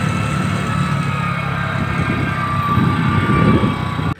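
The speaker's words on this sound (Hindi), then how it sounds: "इंजन ब्रेक यूज कर रहा हूँ।" A car descends a hill in first gear on engine braking, its engine droning at a low, steady pitch close by, with the rumble rising slightly toward the end before cutting off.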